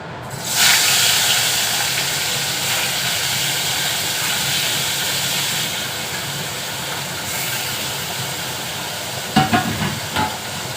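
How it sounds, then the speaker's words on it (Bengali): A kitchen chimney exhaust hood runs loud and steady, a broad continuous whoosh that fills the room without letup, with a few sharp clatters near the end. "চিমনিটা চললে খুব ভীষণ শব্দ হয়, ওই জন্য কোনো কথা বলাও যায় না।"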